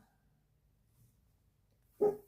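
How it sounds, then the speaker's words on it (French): A single short dog bark sounds indoors after near silence, moderately loud and close, with a faint low murmur before it. "N'aboie pas ou je te fais sortir de la pièce."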